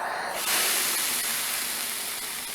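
A steam iron hisses on a damp pressing cloth while a lapped zipper is pressed, making a close, steady sizzling hiss that starts abruptly and holds for about two seconds.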